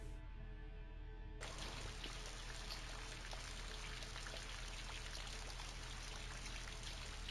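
A shower running in the video game Voices of the Void, a steady hiss of pouring water that starts abruptly and continues evenly, with no talking.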